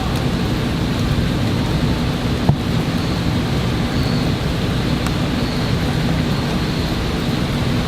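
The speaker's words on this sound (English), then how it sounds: "We just had another huge crack of thunder and lightning." Steady heavy rain pours during a severe thunderstorm, with a low continuous rumble of thunder beneath and a single sharp crack partway through; no voices.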